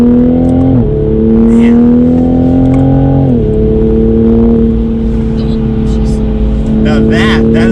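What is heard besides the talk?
A90 Toyota Supra engine accelerating on a race track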